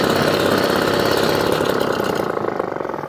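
A 1954 Atco Midget kickstart lawnmower's small vintage engine idles steadily and loudly up close, its rapid even chugging continuous throughout with no talk.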